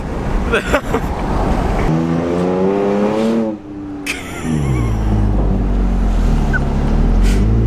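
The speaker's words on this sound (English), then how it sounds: "you guys have heard my exhaust already" A Toyota Tacoma pickup with an aftermarket MBRP exhaust rumbles and revs with a deep, throaty note, rising and falling in pitch close by, with rain noise underneath.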